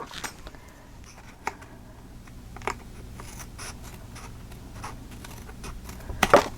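Scissors snip paper for a mixed media photo folio in close, soft cuts and rustles, a few brief crisp snips scattered over quiet handling, with a sharper burst at the end.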